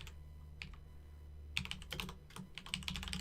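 Keyboard typing, light at first and then quickening into dense bursts of clacking keys, close up with a low background hum.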